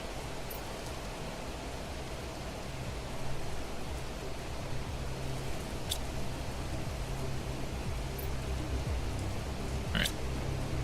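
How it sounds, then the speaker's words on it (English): Steady in-game rain in the video game Planet Crafter hisses as a soft, continuous wash of noise, with a few faint clicks scattered through it. "I think it's raining outside. Oh, in-game outside."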